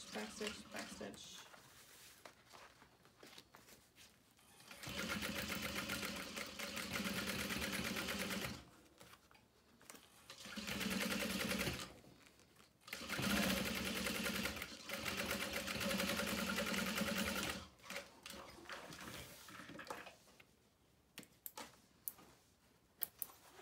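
A sewing machine stitches a makeup bag in several bursts of steady, rapid running separated by pauses, with short back-and-forth backstitch runs, while a person talks between and over the stitching.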